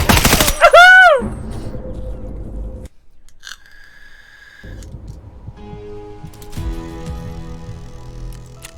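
Automatic gunfire in Escape from Tarkov, a loud close burst at the start followed by quieter scattered game sounds and a sustained electronic tone.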